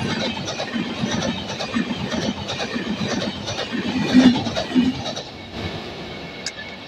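The Maharashtra Express, hauled by a WAG9 locomotive with new coaches, races past at high speed, a loud continuous rumble with rhythmic clattering wheels that fades toward the end.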